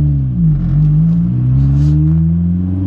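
A Renault 5 Turbo engine revs loudly and close, its deep tone swelling and dipping over a few seconds, rough and throaty with no talking.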